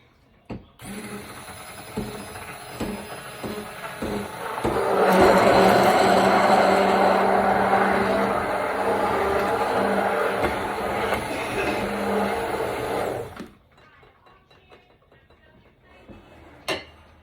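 An immersion blender whirs through yolks from home-raised chicken eggs for lemon curd, starting with short bursts, then a loud steady motor drone for about eight seconds before cutting off, followed by a few faint clinks.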